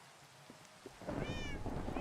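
A cat in the Minecraft video game gives a few short, rising meows in the second half. They sound over a quiet background of rain and faint game sounds.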